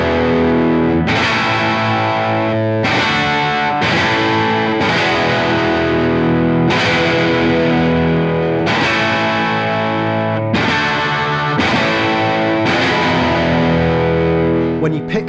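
Overdriven electric guitar with hard-picked notes and chord hits that ring out sharp before settling, played in repeated bursts with brief pauses, loud and close with no talking.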